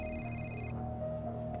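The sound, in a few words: telephone ringing in Spider-Man video game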